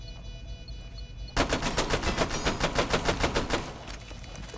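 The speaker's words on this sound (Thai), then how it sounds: "เขาจะยิงทะลุนั่นไงนั่นไงไง" Automatic gunfire in the Rainbow Six Siege video game, a rapid loud burst of evenly spaced shots that starts abruptly after a moment of game background noise.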